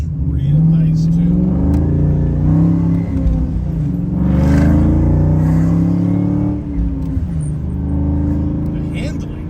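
A 1992 Ford Mustang LX with a swapped engine pulls hard at part throttle, its engine note climbing and falling through loud, close revving beneath excited talking.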